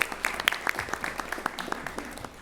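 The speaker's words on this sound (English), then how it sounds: "Let's have another round of applause." Scattered clapping from a small crowd at a school board meeting, light and uneven, tapering off after a couple of seconds.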